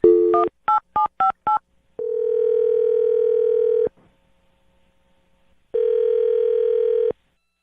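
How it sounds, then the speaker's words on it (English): A telephone number is tapped in as a quick run of separate touch-tone beeps, then a long steady ringback tone, a short silence, and a second ringback tone, loud and clear with no talking. "I'll dial her phone number right now."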